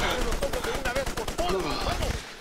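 Enemy gunfire in Army of Two: The Devil's Cartel rattles in rapid, steady automatic bursts, close and loud, while someone talks over it.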